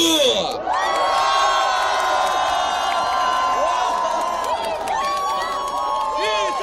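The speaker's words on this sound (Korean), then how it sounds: "이재명 대표님께 함성과 박수!" At an outdoor election campaign rally, a crowd cheers loudly for a party leader, with sustained shouting and whoops mixed with applause and loud, drawn-out voices from the crowd throughout.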